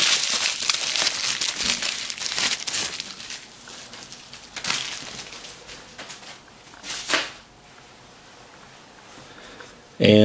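A plastic bag and bubble wrap peeled off a titanium framelock flipper knife crinkle and crackle up close in uneven bursts, with talk in between and a sharp rustle at the end.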